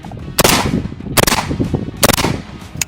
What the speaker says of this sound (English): We're gonna pump 3 rounds down range of each of these bullets